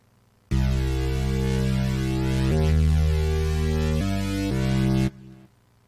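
Sustained electronic bass line from an EDM track, thick and loud with steady harmonic tones, changing pitch a few times across roughly five seconds before cutting off abruptly.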